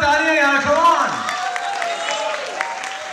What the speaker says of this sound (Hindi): एक बार जोरदार तालियां यार, कम ऑन